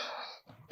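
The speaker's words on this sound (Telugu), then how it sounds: "ఇప్పుడు కూడా దగ్గు." A single short cough bursts out at the very end, close and loud, after a brief stretch of quiet breathy voice sound.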